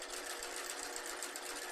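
Sewing machine stitching down the length of a fabric scrunchie, a quiet, rapid, even whir of the needle running continuously for a short burst with no talking.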